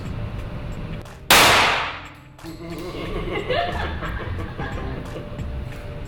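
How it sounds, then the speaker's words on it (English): A single loud gunshot from a big handgun cracks close by and rings off with a long decaying tail, followed by laughter and voices chatting. "This is a big gun. Hold tight. And squeeze."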